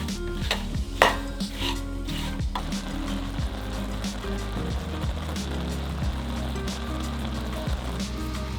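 Strawberries and coconut sugar cooking in a pan over medium heat, with a steady soft bubbling sizzle, a few scraping stirs near the start, close and continuous.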